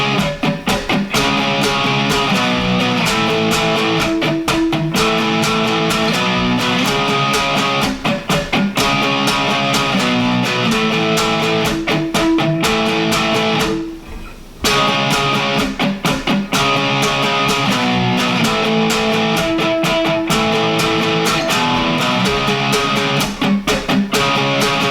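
An electric guitar plays the final riff of a pop punk song in loud, rhythmic strummed chords with muted dead strums. The riff pauses briefly midway, then repeats.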